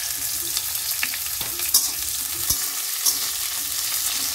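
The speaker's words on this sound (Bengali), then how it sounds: "পেঁয়াজগুলো দিচ্ছে তাই তো?" Sliced onions fry in hot oil with nigella seeds in a home kitchen, giving a steady close sizzle broken by a few sharp crackles and stirring clicks, with no talk.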